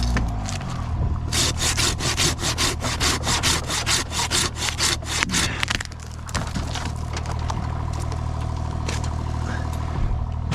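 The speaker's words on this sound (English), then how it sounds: "Let me shorten this up. I'll do a handsaw on this." Handsaw cutting through a dead white oak branch with quick, rhythmic back-and-forth rasping strokes, close and loud, easing into slower scraping toward the end while an engine hums steadily underneath.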